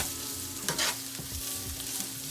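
Sliced smoked sausage, about 1.5 pounds, frying in a pan for a sausage, green bean and potato casserole, with a steady close sizzle and a few stirring scrapes and clatters.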